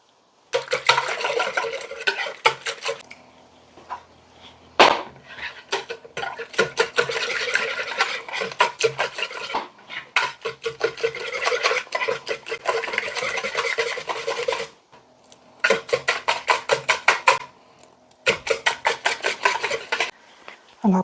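Eggs mixed one at a time into coconut blueberry cake batter, heard as repeated rhythmic scraping and rubbing strokes of a utensil in a bowl, coming in bursts with brief pauses between them, close and fairly loud.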